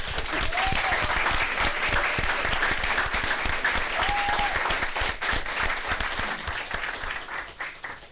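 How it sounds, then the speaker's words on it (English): School board meeting audience gives a round of applause, steady dense clapping from a moderate-sized room, sustained for several seconds and tapering off at the end. "So I think they deserve a round of applause for that."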